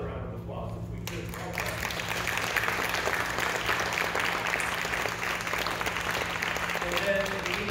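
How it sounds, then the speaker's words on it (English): An audience at an event featuring Representative Dan Crenshaw breaks into a sustained round of applause, dense clapping swelling after a second and continuing steadily throughout. "I'd like to give another round of applause if we could."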